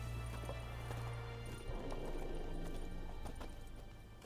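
The horse Roach from the video game The Witcher, rhythmic hoof clip-clops at a gallop that slow toward a halt, close and moderately loud, over a low steady drone.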